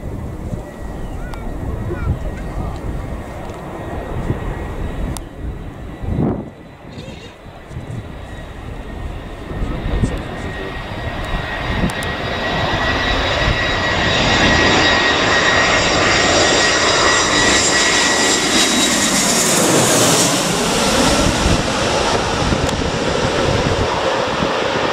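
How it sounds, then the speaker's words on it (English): A fixed-wing airliner takes off at Liverpool Airport, its engine roar swelling from a distant rumble to a loud, sustained close-range blast, with brief talk at the start. "Oh, plane!"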